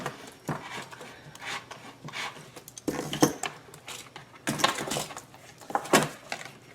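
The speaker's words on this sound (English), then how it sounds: "So I'm going to use a repairman's reamer just to clean it up just a little bit." Hand reamer rasping and scraping in short bursts as it enlarges a hole for a Genmax GM3300i generator extended-run fuel kit, several close rubbing strokes with pauses between them.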